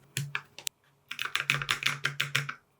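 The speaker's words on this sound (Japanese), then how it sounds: "3D プリンターで印刷したキーキャップをはめていけば完成です" Plastic 3D-printed keycaps being pressed and snapped onto a keyboard, producing a few scattered clicks followed by a quick run of crisp, close tapping clicks, with no talk.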